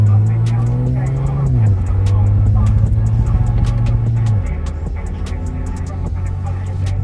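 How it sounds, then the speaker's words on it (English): A BMW 335 with the N54 engine driving on a broken transmission gives a loud, steady engine drone whose pitch drops sharply twice as it shifts down, with road rumble underneath throughout. "first driving the 335 with a broken transmission"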